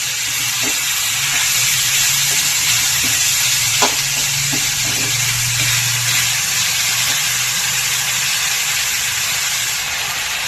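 Leafy greens frying in a pan with oil, a loud steady sizzle and hiss throughout with occasional faint stirring clicks.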